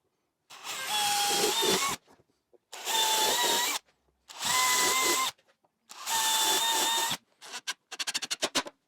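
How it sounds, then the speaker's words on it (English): A power drill drives screws into a wooden mitre spline jig in four separate whirring bursts of about a second or more each, close and loud, followed by a quick run of ratcheting clicks. "next thing I'm going to do is put some screws in here so it's permanent"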